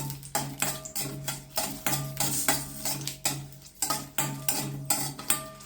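Green chillies sautéing in a pan of coconut oil, with a spoon scraping and clinking against the pan in a regular rhythm of sharp knocks, close up and with no talk.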